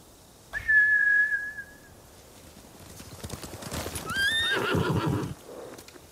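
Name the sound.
horses neighing and galloping, from a video game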